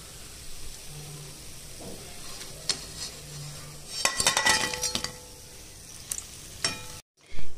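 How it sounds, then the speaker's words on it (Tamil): Urad dal medu vadai frying in hot oil, a faint steady sizzle with a few brief clinks and stirring scrapes of a utensil in the pan, then a sharp louder knock just before the end. "வடை வந்து நல்லா வெந்து கோல்டன் பிரவுன் கலருக்கு ஆயிடுத்து"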